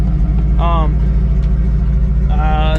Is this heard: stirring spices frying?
no